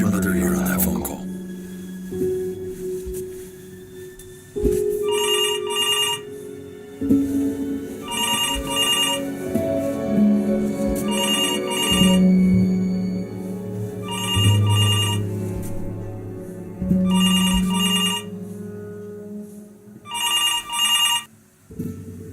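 Telephone ringing inside the video game Before Your Eyes, repeated bursts of a bright electronic ring at a steady interval across the whole stretch, playing over sustained music and ambient tones.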